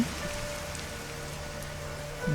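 Steady rain pours down in a dense, even hiss, close by and unbroken throughout, with no voices.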